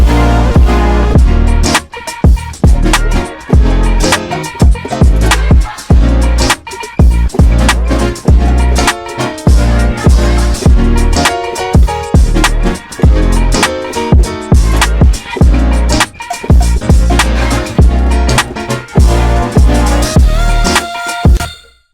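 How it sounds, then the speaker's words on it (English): Keyboard embellishments layered into a full hip-hop beat, loud and dense with steady rhythmic hits throughout, playing alone without voices. "So the next thing I added were some keys for embellishments."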